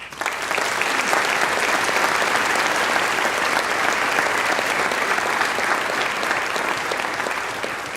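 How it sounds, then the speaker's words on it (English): A school choral awards night audience gives a sustained round of applause, loud, dense and steady from start to finish with no voices over it. "Let's acknowledge these people and businesses with a round of applause"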